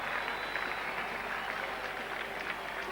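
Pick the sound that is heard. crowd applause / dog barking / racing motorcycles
crowd applause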